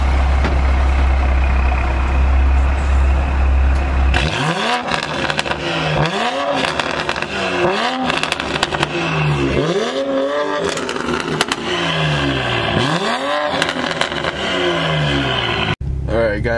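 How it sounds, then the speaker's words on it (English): A 2020 Toyota Supra with its catalytic converter deleted, the loud exhaust revving in a run of sharp rising bursts after a few seconds of steady idle, close and raw. "the cat delete on a 2020 Toyota Supra"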